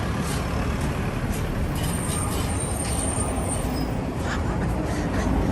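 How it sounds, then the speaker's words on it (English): Heavy trucks rumble past on a busy road near Yokota Air Base, a continuous loud roar of engines and tyres with hissing brakes and no pauses. "I am absolutely blown away at how many trucks there are here."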